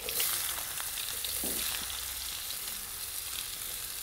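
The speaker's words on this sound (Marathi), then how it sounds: "आपण आता कांदा टाकून घेऊ तळायला" Chopped onion fries in hot oil with mustard seeds and cumin in a pan, giving a steady, bright sizzle that runs unbroken throughout, with a brief stir partway through and no talking.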